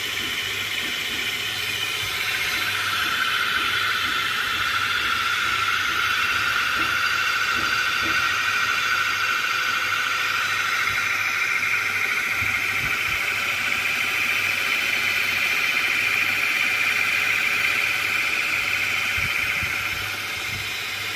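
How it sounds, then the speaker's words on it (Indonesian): A homemade magnet-powered free-energy generator set runs steadily for the whole stretch, giving off a continuous, even mechanical whir and hiss with a bright high whine layered on top. No one talks. "genset tenaga magnet ini saya perlihatkan"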